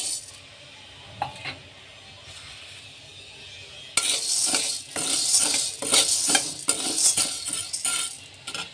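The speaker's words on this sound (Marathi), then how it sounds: "आता हरभऱ्याची डाळ भाजून घ्यायची आहे" Chana dal roasting in a dry pan over medium heat, first quiet with a few faint scrapes, then a sudden rush of dense rattling and clinking as a spatula stirs the lentils briskly, close and steady.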